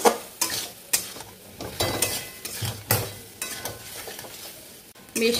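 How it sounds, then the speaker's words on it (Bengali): Prawns with chili and prawn paste are stirred and fried in a pan, the spoon scraping in regular strokes every second or so over a continuous close sizzle. "এবার এগুলোকে সব শুদ্ধ একটুখানি ভাজা ভাজা করবো, আর ঢাকবো না, এইভাবেই নাড়াচাড়া দেবো"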